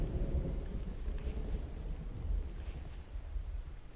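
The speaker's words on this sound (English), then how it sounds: "So it's obviously raining." Steady heavy rain falling in a survival game with a stormy low rumble beneath, a continuous dense wash with no voices.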